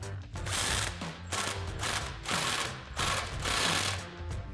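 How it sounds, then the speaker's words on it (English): Ratchet with a 15mm socket tightening the bottom bolt on a Jeep Gladiator JT during a coil spacer leveling kit install: rapid clicking bursts in four or five strokes, close and loud, with no voices. "now to tighten up our bottom bolt, we'll be using a 15mm socket and a 15mm wrench"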